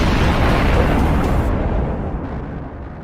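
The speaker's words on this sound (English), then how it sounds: "The strike triggers an internal explosion." A loud, roaring internal explosion inside a tank, a burst that sustains and slowly fades, with no voices.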